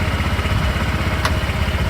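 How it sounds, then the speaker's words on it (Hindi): A rental motorcycle in Pattaya, Thailand idles close by with a steady, low throbbing engine pulse, plus one brief sharp click partway through; no one speaks. "अब मोटरसाइकिल स्टार्ट हो गया।"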